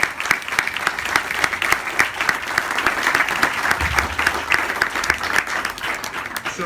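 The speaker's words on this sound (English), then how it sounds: "if you wouldn't mind helping me give them a round of applause" Steady audience applause, dense clapping from many hands throughout with no pauses, moderately loud and evenly sustained.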